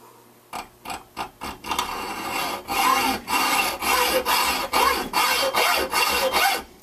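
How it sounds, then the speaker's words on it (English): A hacksaw cuts through steel bar stock on a gunsmith's bench, starting with short, quick strokes and settling into longer, steady rasping back-and-forth strokes, close and loud with no talk. "Believe it or not, gunsmiths still use hacksaws."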